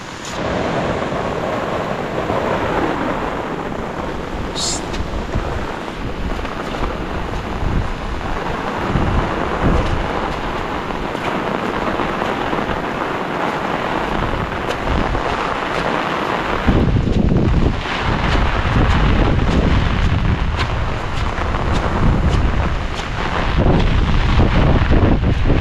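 Strong typhoon wind roars and buffets constantly with rain and gusts, loud and close throughout and growing heavier toward the end.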